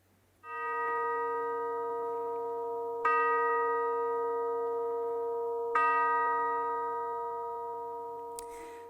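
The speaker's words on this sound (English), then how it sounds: "we'll now begin our service with the temple chimes" Temple chimes opening a church service: three resonant bell strikes a few seconds apart, each ringing out with a long sustained decay in a quiet room.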